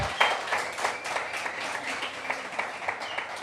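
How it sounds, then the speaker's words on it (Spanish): A church congregation applauds the fathers on Father's Day, moderately loud and close, with dense clapping that keeps a lively, uneven texture for the whole stretch. "Vamos a dar un aplauso a los padres."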